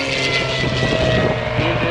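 Oracle Challenger III aerobatic propeller airplane performing at an air show, its engine droning loud and steady with a buzzing propeller whine, close and continuous with no voices.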